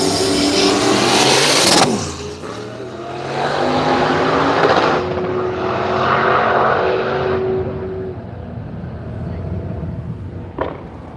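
A yellow Camaro drag car makes a pass at Willowbank Raceway in Australia, engine roaring loud and rising through revs before fading away down the strip, with a brief sharp crack near the end.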